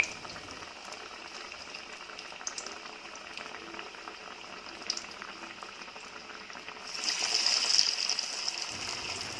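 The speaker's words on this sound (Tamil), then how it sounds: "இந்த மாதிரி தட்டிட்டு சூடான எண்ணெயில் நீங்கள் போட்டுடலாம்." Dill leaf dal vada fry in hot oil with a continuous close sizzle and crackle. The bubbling grows louder and denser near the end, with no one speaking.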